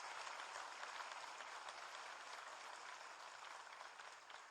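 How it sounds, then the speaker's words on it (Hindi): Applause from an audience at a national electropathy seminar, a steady, dense patter of clapping that holds at an even level throughout, fading very slightly toward the end. "एक बार उनके लिए भी ताली बजाएं।"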